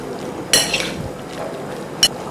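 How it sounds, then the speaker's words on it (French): A utensil mixing meat with spices in a pot makes two sharp metallic clinks about one and a half seconds apart over a quiet background. "je veux bien mélanger ma viande avec ces épices"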